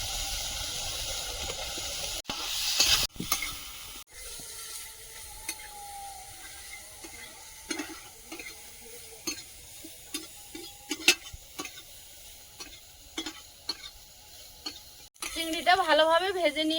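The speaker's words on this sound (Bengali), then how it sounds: "চিংড়িটা একটু সময় নিয়ে ভালোভাবে ভেজে নেব সামান্য তেল দিয়ে দেবো" Prawns frying in a little oil: steady sizzle runs throughout with scattered scraping and stirring clicks, a brief loud burst near the start, and louder crackling at the end.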